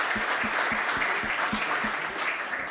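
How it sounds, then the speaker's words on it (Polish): Audience applause for panelists at a local-government forum in Poland, a steady dense clapping throughout with a few sharper individual claps standing out, no talk over it. "Jeszcze raz gorące brawa naszym panelistom."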